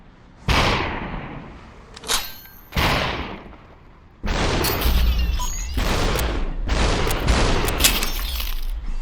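Pistol shots in the video game Superhot ring out as several sharp bursts with shattering, glassy breaks and long decaying tails, loud and close, the later ones packed tightly together.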